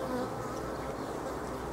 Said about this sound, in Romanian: Iată chiar o albință acum hrănește.